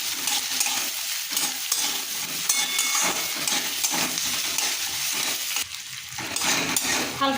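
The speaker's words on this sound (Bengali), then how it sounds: "হালকা করে এগুলো ভাজা হয়ে গেছে" Chopped tomato, ginger, garlic and cashew pieces fry in a pan, sizzling loudly with repeated scraping stir strokes and the odd clink of a utensil against the pan.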